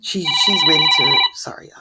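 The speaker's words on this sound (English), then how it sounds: "That was my alarm again." A phone alarm rings with steady bright repeated tones for about a second, loud and close, while someone talks over it before it cuts off and she keeps speaking.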